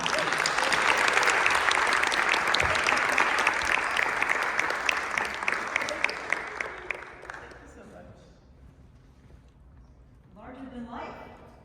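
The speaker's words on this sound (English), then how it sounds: "Let's give her a warm round of applause." A crowd applauds steadily for several seconds, the clapping thinning and fading out, followed by a brief murmur of voices.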